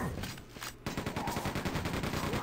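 Rapid chaingun fire in the Quake II video game, a fast, evenly spaced burst of sharp repeated shots after a brief lull, loud and alone.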